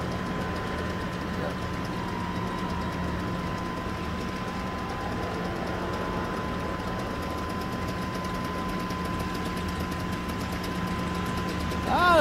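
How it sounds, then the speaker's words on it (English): Aircraft engines run at a factory in a flight simulator game at Renton Municipal Airport: a steady low engine drone with a constant tonal hum, moderate and continuous, rising slightly at the very end. "Ah, they're putting on the engines."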